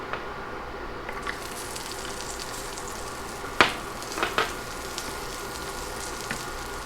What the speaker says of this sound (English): I'm gonna add some butter to it, to a pan.